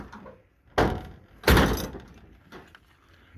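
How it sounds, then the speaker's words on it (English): A 1969 Mustang truck-conversion body's car door opens with a latch click, then swings shut in a solid thunk, followed by a fainter knock; near and alone, no talk. "door opens and closes pretty good"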